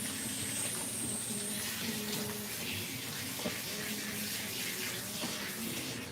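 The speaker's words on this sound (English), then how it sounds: "When the pressure is on low, it takes a lot longer to rinse out that shampoo" Low-pressure water runs steadily, rinsing shampoo out of a Siberian cat's coat during a lion-cut groom, a soft continuous hiss and splash at moderate distance with no talk.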